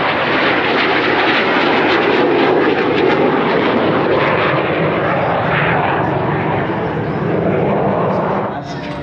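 Attack aircraft at an air show roaring through a tight 5G minimum-radius turn, a loud, sustained engine rush that holds steady and then eases off slightly at the end, with an announcer talking over it.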